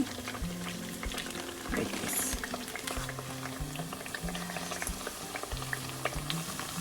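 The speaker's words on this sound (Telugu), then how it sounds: "ఇది బాయిల్ చేసేసుకోవాలన్నమాట" Small pieces of sajja burelu dough bubble in a pot of boiling liquid, a steady rolling simmer with a brief burst of louder bubbling partway through.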